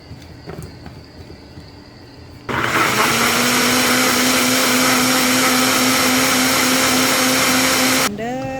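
An electric kitchen blender whirs loudly while blending sambal ingredients with water, salt, sugar and vinegar. It starts abruptly after a quiet moment, holds a steady high-pitched whine for about five seconds, then cuts off.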